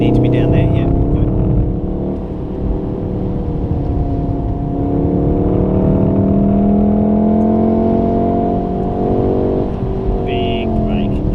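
A Golf R engine drones at Wakefield race track, its steady humming tone rising and falling as the throttle is applied, heard from inside the car with people talking over it.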